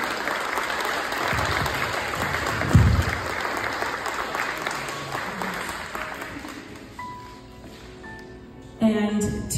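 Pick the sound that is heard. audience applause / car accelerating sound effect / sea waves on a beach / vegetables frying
audience applause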